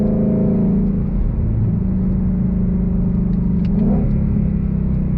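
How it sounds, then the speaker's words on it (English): A 2022 Ford Shelby GT500 Heritage Edition Mustang engine revs and accelerates, a loud continuous roar with rising pitch, close and steady throughout with no voices. "We gotta go on throttle again."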